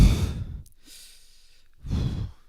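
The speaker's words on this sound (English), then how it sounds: "Still heavily breathing." Heavy breathing from a player after a match, two deep, loud, close exhales with a quieter breath between them and no speech.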